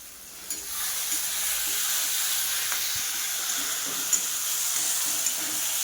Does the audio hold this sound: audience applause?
no